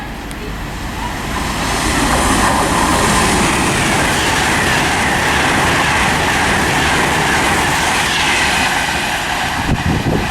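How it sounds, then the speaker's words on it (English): A Virgin Trains service bound for Manchester Piccadilly passes through Watford Junction on the West Coast Main Line, a loud sustained rush of rolling stock and wheel noise building quickly and holding steady for several seconds. "passing through now is going to be a Virgin Train service to Manchester Piccadilly"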